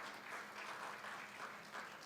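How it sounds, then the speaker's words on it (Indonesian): A church congregation at a Sunday afternoon service claps steadily for a long stretch. The applause is dense but faint and distant, with no voices above it. "Tepuk tangan panjang bagi Tuhan Yesus."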